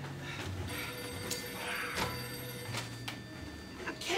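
An old-fashioned telephone bell rings faintly in repeated short bursts across a quiet room, with light background rustle and no speech.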